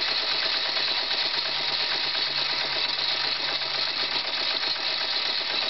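A small model steam engine runs steadily, close by, giving a fast, even mechanical chatter and hiss with no pauses and no one speaking.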